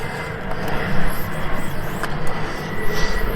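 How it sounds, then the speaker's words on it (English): Airplane passing overhead outdoors, a loud, continuous broadband engine roar that swells slightly while faint chirps and other background sounds come and go. "Excuse the plane."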